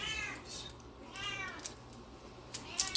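Faint meows from cats indoors in a kitchen, two or three drawn-out cries spaced apart, with a few small clicks and knocks near the end.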